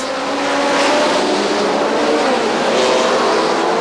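High-pitched Formula One racing cars roar continuously and loudly at Goodwood, with a couple of swelling passes and rising revs, no voices.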